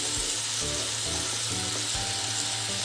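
Softened vegetables that have released their water sizzle in a pan for fish curry, a dense steady frying hiss with faint soft stirring underneath.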